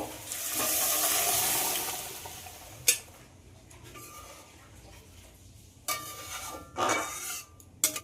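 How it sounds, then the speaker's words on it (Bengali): Pressure-cooked masoor dal is tipped into a pan of ginger and garlic fried in oil. A wet, splashing pour opens the clip, followed by scattered clunks and scraping of utensils, with no talking. "এবার প্রেসার কুকারে সিদ্ধ করে রাখা ডালটা দিয়ে দেব"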